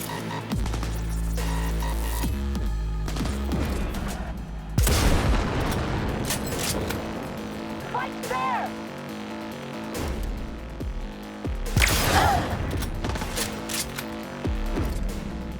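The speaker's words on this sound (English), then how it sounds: "They're shooting each other?" Gunfire rings out in a Cyberpunk 2077 firefight, with loud bursts and scattered booms coming in waves under a dense game soundscape.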